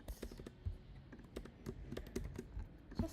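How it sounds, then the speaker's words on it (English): Typing on a computer keyboard while coding, a quick irregular run of soft clicks and key taps, close and fairly quiet, with no voice over it. "Just so uncomfortable typing like this in Python."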